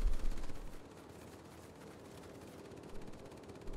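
Rear gunners on bomber aircraft firing machine guns in a World War II air combat video game, a rattle of gunfire with engine noise underneath, faint and without speech.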